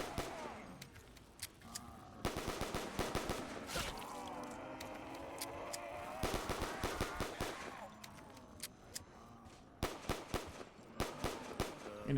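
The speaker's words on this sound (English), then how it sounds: "the M1911 has that indoor sound to it that it should have had." M1911 pistol fire indoors in Black Ops 3 Zombies TranZit, a series of sharp, reverberant shots in quick bursts over constant game background noise, close and loud with short gaps between volleys.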